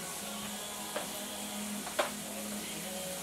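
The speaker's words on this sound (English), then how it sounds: "Alright, we're just going to saute this up." Butter sizzling steadily in a large pan as food sautés, a soft even hiss with a couple of faint utensil clicks, quiet and close.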